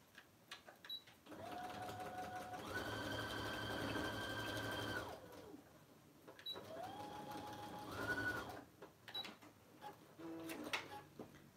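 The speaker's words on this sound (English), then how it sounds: "let's pull the machine back in here. And I'm going to go ahead and sew it" A sewing machine top-stitches a simple messenger bag in two long runs, a steady buzzing whir that rises and holds for several seconds each time, with short handling clicks and fabric shuffling between and after the bursts.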